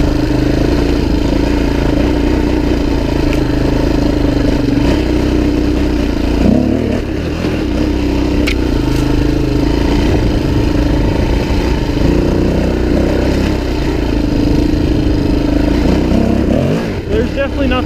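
A Suzuki DRZ400e dual sport motorcycle engine drones steadily while riding, a loud continuous rumble with wind noise and slight rises in revs, with a rider talking over it.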